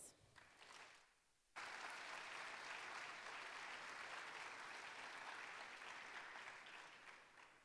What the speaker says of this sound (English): we're going to give them each a round of applause